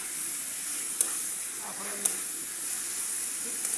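Green chillies and onion leaves frying in a pan, a bright, steady hiss of sizzling oil with a few sharp clicks of stirring, close up, while a voice speaks briefly.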